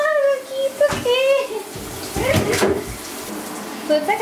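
Water from a home shower runs steadily while a dog is being bathed, a continuous hiss and splash heard close by under intermittent talking and a few whining or squeaky sounds.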